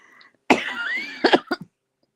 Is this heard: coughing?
yes